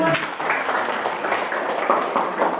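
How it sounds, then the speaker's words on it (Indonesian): Classmates clap for a pupil in a primary school classroom, a short burst of moderately loud applause from a small group. "Tepuk tangan."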